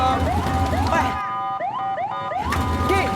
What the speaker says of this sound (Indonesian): Beta akan bantu untuk membuka jalan buat ambulans ini.